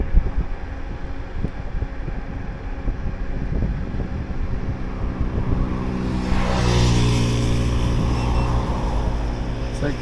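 A motorbike engine hums steadily in the background, with a rise in noise as it passes by, mixed with wind and outdoor rumble.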